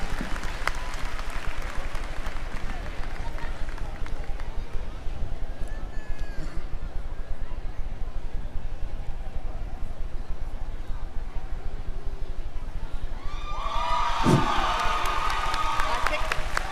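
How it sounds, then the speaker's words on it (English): Crowd applause and cheering from spectators at a champion steer show at the Delaware State Fair, a steady sustained clapping throughout with a louder burst of cheers near the end, with an announcer's voice mixed in. "Let's give them another round of applause"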